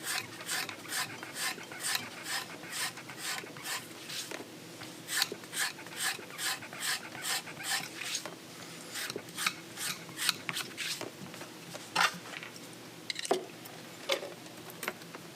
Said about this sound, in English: Watch your fingers when you're using the skiver.